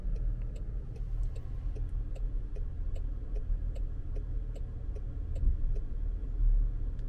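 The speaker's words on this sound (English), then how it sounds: "now it's going to back up to the line right here" A Range Rover backs itself into a parking space under park assist, its engine giving a steady low rumble with faint regular ticking over the top, close and unbroken, with no talk.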